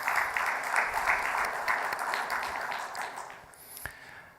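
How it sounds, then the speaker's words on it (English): An audience at a value engineering summit welcome address gives a round of applause, a steady moderate wash of claps that slowly fades away. "let's have another round of applause for them"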